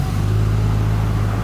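Built Nissan RB26 engine revving loudly through a newly fitted exhaust, a steady deep droning tone held close and continuous with no talking over it.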